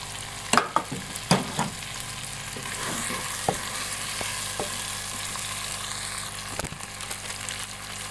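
Chicken pulao frying in a pan as chopped tomatoes go in, a steady close sizzle broken by several sharp stirring clatters early on and a few lighter scrapes later, with no talk.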